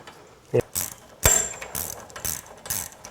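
Ratcheting clicks from a wrench tightening a bolt on a garage door torsion spring cable spool, heard as a few short, sharp mechanical bursts spaced irregularly, close and fairly quiet.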